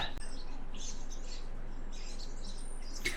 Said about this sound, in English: Some peaceful, chirpy little birds.